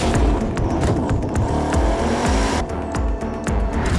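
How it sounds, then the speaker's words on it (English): Bugatti's 1600-horsepower track-only hypercar roars loudly at close range around the Paul Ricard circuit, its engine note rising and shifting continuously with brief tire scrub, and no voices heard. "Bugatti's monstrous 1600 horsepower track-only hypercar"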